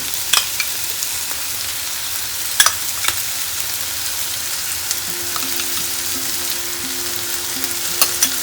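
Loud, steady sizzling of chicken wrap filling frying in a pan as cream is spooned in, with occasional stirring clicks and spatters over the continuous hiss.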